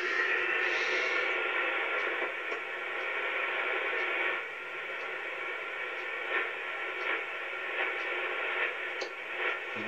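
Steady hiss of radio static on an AM receiver connected to a compact 28 MHz antenna, with faint ticks and small swells in the noise, continuous and fairly loud.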